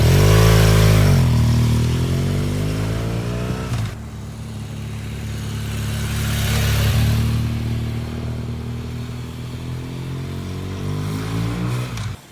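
A motorcycle ridden on the road leans into a turn: the engine revs high and loud, drops off sharply as the throttle closes, then hums along with wind noise before revving up again.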